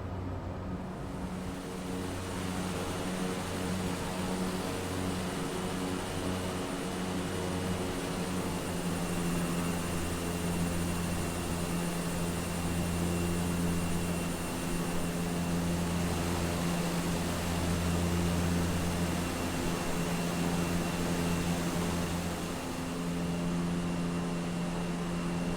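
Steady, loud turboprop drone of a Cessna Caravan in climb, with strong low engine and propeller harmonics under a broad cabin hiss, unbroken throughout and with no talk.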